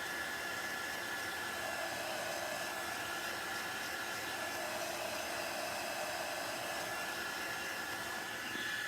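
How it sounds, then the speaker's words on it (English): A high-heat craft heat tool blows steadily while drying paint on a bistro board, a continuous loud fan roar with a steady motor whine, unbroken throughout and with no talking. "I'm using a heat tool, and this really speeds up your drying"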